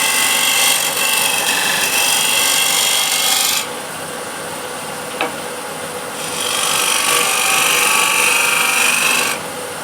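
A wood lathe spins a turning while a refiner tool scrapes the wood, producing a loud raspy rubbing that stops briefly midway, with a quieter motor hum and a short tick, then resumes.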